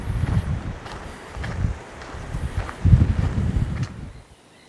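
Wind gusts through trees in the African wilderness, a steady low rumble and rustle swelling in waves, strongest near the middle, then fading to near quiet at the end.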